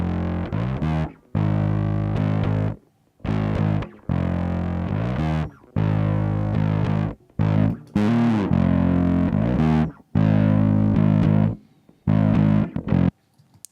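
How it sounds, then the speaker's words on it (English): Synthesized distorted bass with a layered Trash effect for a Twenty One Pilots "My Blood" sound, playing loud, gritty sustained notes in short bursts separated by brief silences. "this is on our top distortion layer with trash applied"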